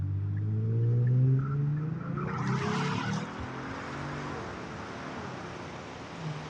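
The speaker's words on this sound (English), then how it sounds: "we're gonna show you what the Honda sounding like with a straight pipe" Honda Accord 2.0T with a straight pipe exhaust, loud and close, swelling in a strong rev during the first three seconds before settling to a rougher, steady drone.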